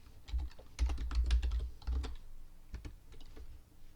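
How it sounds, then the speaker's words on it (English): Fingers typing on a computer keyboard, quick bursts of close clicking keystrokes with short pauses between runs, alone without talk. "and typing in our function here."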